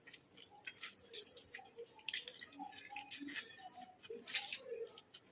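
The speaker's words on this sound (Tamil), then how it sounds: "இந்த தக்காளி நம்ம போட்டு நல்லா பிழிஞ்சு எடுத்துக்கலாம்" Juice from a tomato squeezed by hand drips into a bowl in small, irregular splashes and patters, quiet and close, with faint handling noises between the drops.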